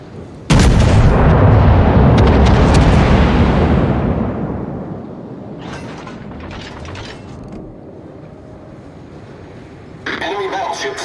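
Big warship guns in World of Warships let go with one loud booming salvo that rumbles and slowly fades. Scattered mechanical clanks and a later burst of noise follow.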